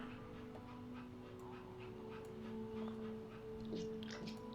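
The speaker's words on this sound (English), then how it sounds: "This all sounds like normal dog noises." Dog noises from a dog in the video game That Dragon, Cancer: soft whimpers and yips over a steady hum of game music, fairly quiet and continuous.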